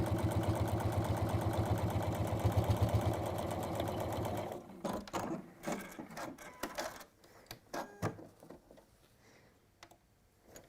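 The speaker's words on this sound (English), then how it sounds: "And then just top stitch down." A sewing machine top stitching fabric runs in a steady, fast, close whir for about four and a half seconds, then stops and gives way to scattered clicks and handling clatter.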